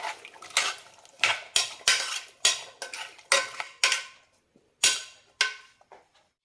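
Yam pieces with salt and turmeric are tossed in a pot, giving a string of sharp scraping clatters of spoon against metal in an uneven rhythm, close and loud, with no voice.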